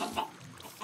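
A chicken in a Minecraft-style puzzle game gives a few quick, soft clucks, close and fairly faint, with no one speaking.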